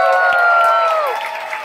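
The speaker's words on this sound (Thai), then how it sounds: "ขอเสียงปรบมือให้เพื่อนผมด้วยครับเอเซแพนเน็ตนะ" Crowd at a Thai band's cover performance at a gathering claps and cheers, a steady wash of applause with a sustained tone over it, fading slightly near the end.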